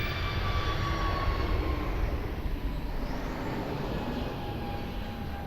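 A jet aircraft engine roars steadily at Lisbon Airport, a broad, even rumble with faint whining tones holding for several seconds, moderately loud and without talk.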